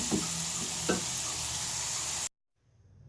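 Masala french fries crackle and sizzle in hot frying oil with a couple of soft knocks as they are lifted out, then the sizzle cuts off abruptly into near silence.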